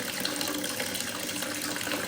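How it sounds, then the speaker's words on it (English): Water runs steadily from a rising spindle tap, a continuous close hiss of flow into a basin with no pauses. "when we switch on this tap here, this rising spindle tap, you can see there's water"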